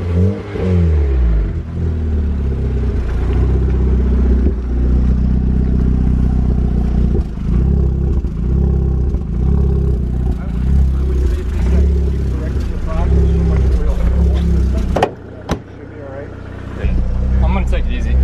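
Engine of an MK6 car on a neighborhood test drive, with the car burning oil; steady mid-level running with some revving through the drive, and a person talking over it.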